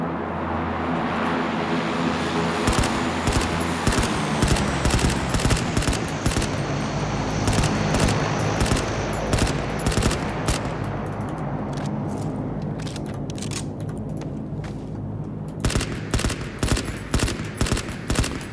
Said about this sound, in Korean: 그냥 총알 박히는 소리밖에 안 들려요.